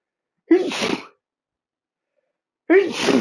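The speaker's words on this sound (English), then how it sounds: "oh, I need to sneeze." A person sneezes twice, two sharp, loud bursts close to the mic separated by about a second and a half of silence.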